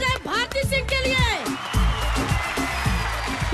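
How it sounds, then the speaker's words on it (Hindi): A studio audience applauds comedian Bharti Singh with a wash of steady clapping that rises after a voice and carries on beneath continued talking. "एक बार जोरदार तालियां हो जाए भारती सिंह के लिए"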